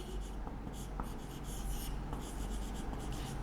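Chalk or marker scratches across a board in quick, close strokes during a classroom lesson, a steady scratching texture with no speech.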